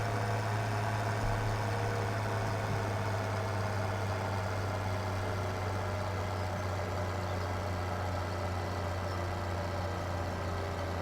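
A John Deere tractor in Farming Simulator 17 hauls a trailer uphill with an upgraded engine, giving a steady, droning low engine hum that holds even and continuous throughout, with no talk over it.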